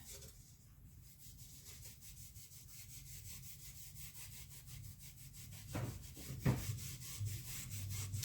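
Minwax wood stain rubbed onto a wooden holiday wall decor piece with a cloth, a steady rhythmic scrubbing friction close up, running continuously with a few louder knocks near the end.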